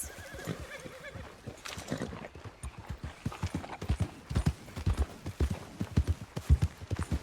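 Horse hooves clip-clop in a steady, close rhythm in Red Dead Redemption 2, with whinnies and neighs mixed in and growing louder toward the end.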